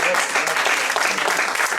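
Lecture attendees at a talk on Sri Aurobindo give a big round of applause, a thick, even patter of many hands close by, with speech mixed in.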